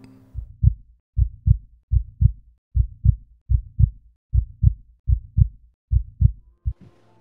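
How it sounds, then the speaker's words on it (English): A heartbeat pulses in a steady rhythm of deep, close double thumps, lub-dub pairs repeating about once a second and heard alone with nothing else around them. "listen to the sound of my own heartbeat"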